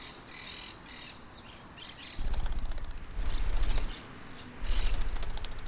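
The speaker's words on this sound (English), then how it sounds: "constructed rapidly by chattering green and grey birds that swoop down to the ground to eat seeds" Green and grey parakeet-like birds chatter and squawk around their colonial nests, a busy overlapping stream of shrill calls with bursts of louder, closer squawking and some wing flutter.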